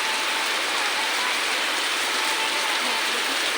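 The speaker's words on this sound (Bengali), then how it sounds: "আমাদের এখানে খুব বৃষ্টি হচ্ছে" Heavy downpour pours steadily outside a lodge, a dense, loud, unbroken wash of rain with no voices.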